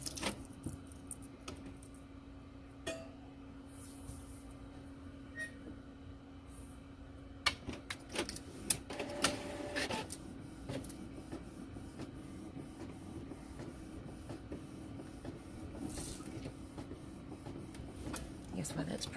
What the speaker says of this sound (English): I guess while that's printing, we can move you over to the Cameo.